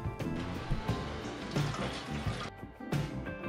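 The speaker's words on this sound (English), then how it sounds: "we can now add 3 cups of vegetable broth to the base" Vegetable broth poured into a blended broccoli and carrot soup base, a steady close liquid pour with splashing that runs continuously, dipping briefly near the end before resuming.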